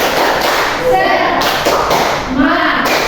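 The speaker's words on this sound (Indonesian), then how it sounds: "Tepuk semangat." Indonesian elementary school children performing the rhythmic 'tepuk semangat' spirit clap in a classroom: a few close, dull claps and thumps in quick patterns, mixed with voices speaking and chanting.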